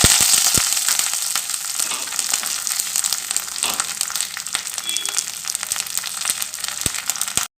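Curry leaves and fennel seeds sizzle and crackle steadily in hot oil during a Tamil-style mutton paya preparation, a close, continuous frying hiss with sharp pops.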